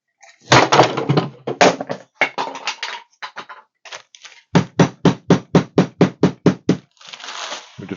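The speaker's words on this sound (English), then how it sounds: "First iteration of a wooden hammer." Wooden hammer striking repeatedly, loud close knocks: a few irregular hits at first, then a quick even series of about ten sharp blows, ending in a rougher scuffing sound.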